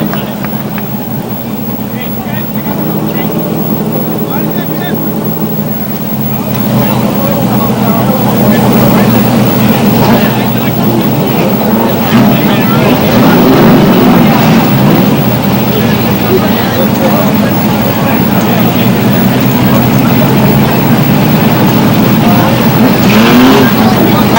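Super modified race cars roar around an oval speedway track. The engine noise is loud, dense and continuous, and it swells slightly midway as the pack passes. A public-address announcer talks over it.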